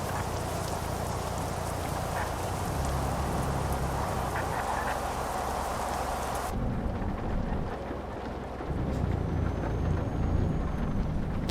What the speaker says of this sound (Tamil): ஆனால் மழை பெய்யுது.